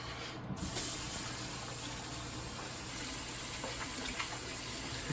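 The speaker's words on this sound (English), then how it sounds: "We need to go wash our hands." Tap water running steadily into a sink during handwashing, a constant soft hiss and splash with no break, fairly quiet and unaccompanied by speech.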